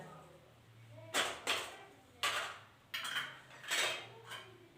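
A jar of mixed vegetable pickles in brine is shaken in several short bursts of sloshing and rattling glass, with quiet pauses between, close by.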